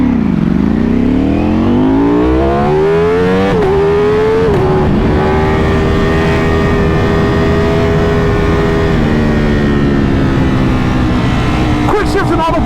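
Ducati Panigale V4 R motorcycle on a private road, engine revving up through rising pitch sweeps with quick shifts, loud and close for most of the stretch, with a voice speaking over it.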